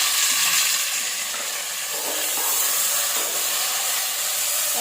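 Onions fry in a pan for paneer biryani with a broad, steady hiss of sizzling oil that holds at an even, fairly loud level throughout, with faint stirring and no talking.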